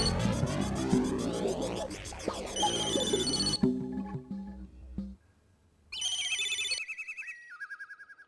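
A telephone ringtone plays a bright electronic melody close by, breaks off into near silence, then resumes with a rising chime pattern, all without talk.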